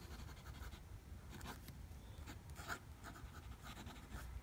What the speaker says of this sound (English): as you can hear, there is a little bit of feedback on this nib